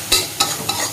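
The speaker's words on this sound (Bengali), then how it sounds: "এবার মশলাটা কষানো হচ্ছে ফ্রেন্ডস" Spice masala for rohu fish frying in a pan, loud and close, with three distinct scraping stir strokes over a continuous sizzle.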